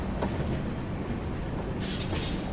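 A Rajdhani Express train running downhill through a ghat section gives a steady, close rumble of wheels and carriage noise with a brighter hiss swelling near the end.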